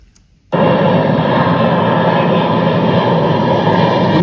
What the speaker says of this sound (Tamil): ரொம்ப கம்மியாக தான் கேட்குது என்ஜின் சவுண்டு